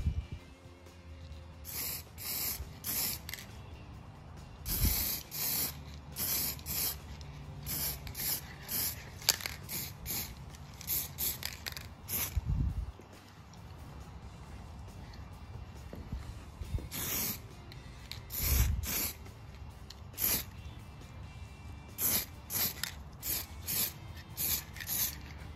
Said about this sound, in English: I'll spray this black as well so it's a bit easier on the eyes